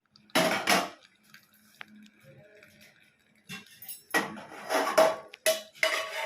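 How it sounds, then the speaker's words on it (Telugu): Boiled spinach being strained in a kitchen for palak paneer, with a few bursts of metal strainer and utensil clatter, fairly close, separated by quiet gaps. "ఇలా వడకట్టేసుకోవాలండి."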